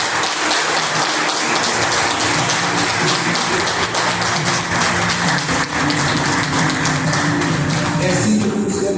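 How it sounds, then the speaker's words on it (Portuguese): A church congregation applauding together, a steady loud wash of clapping that holds evenly throughout without pause. "Vamos aplaudir o Senhor Jesus"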